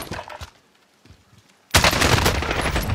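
Gunfire in the Call of Duty: Vanguard video game. A few scattered shots open the clip, then a quiet gap, then a sudden loud, sustained burst of rapid automatic fire that runs to the end.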